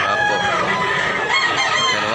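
Kanawayon roosters crow and cluck loudly up close, a dense, steady overlap of bird calls filling the short stretch with no break.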